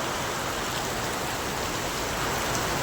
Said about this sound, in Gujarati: એકદમ ફૂલ વરસાદ ચાલુ છે